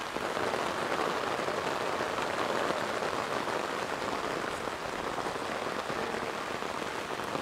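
Heavy rain lashes down steadily with gusting wind across an outdoor disc golf course during a final tournament round, a dense, unbroken roar from start to finish with no voices.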